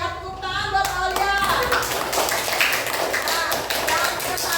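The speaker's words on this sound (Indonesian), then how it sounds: "Tepuk tangan buat Aulia." A classroom of primary school pupils claps for a classmate, a dense burst of hand clapping that runs steadily over background chatter and a few voices.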